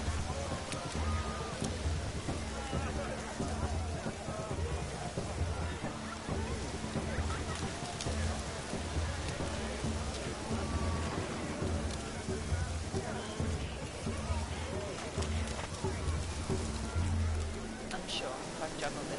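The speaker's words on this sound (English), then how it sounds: "It's such a shame that it started raining." Steady rain falls throughout a rainy scene in The Witcher 3 video game, a dense continuous hiss with low rumbling underneath, lasting the whole stretch without clear breaks.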